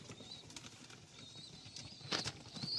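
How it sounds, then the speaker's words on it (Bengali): Pigeons feeding in a loft: faint, scattered pecking and shuffling with brief wing flutters and soft rustles, fairly quiet and with no talk. "খাবার দিয়ে দিয়েছি, পায়রাগুলো খাচ্ছে, খেয়ে নিক"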